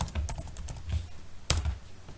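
Someone types on a computer keyboard to enter a command in a terminal, producing a quick, close run of clicky keystrokes ending in a sharper final key press, with no talking.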